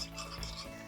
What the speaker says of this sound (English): Pour it into the mug and mix it well.